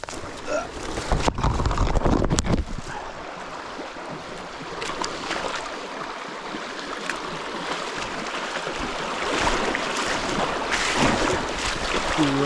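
Rushing water from a small waterfall at a creek crossing on Michigan's Keweenaw Peninsula, splashing near and constant, with louder bursts of movement at the start and toward the end.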